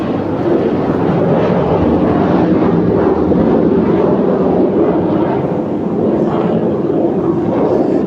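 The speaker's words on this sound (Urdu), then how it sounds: "جہاز میں تو جوش آیا پڑا ہے، وہ بار بار ادھر ہی چکر لگا رہا ہے" An airplane circling overhead produces a steady, loud, broadband engine roar that stays constant throughout, with no clear speech on top.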